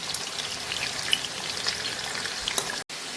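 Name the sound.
potatoes frying in white oil on low flame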